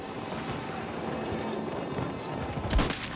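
Rapid gunfire bursts in Battlefield 2042, a dense run of shots with one sharp louder crack near the end, set against steady game noise with faint talk.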